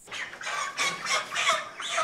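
Chickens clucking inside a barn, several birds calling in short overlapping bursts at close range, with no talk over them.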